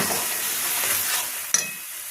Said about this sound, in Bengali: টমেটো পেস্ট দিয়েও আমি 1-2 মিনিট নাড়াচাড়া করে